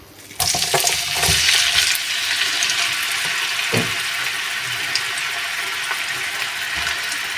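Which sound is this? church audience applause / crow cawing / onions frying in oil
onions frying in oil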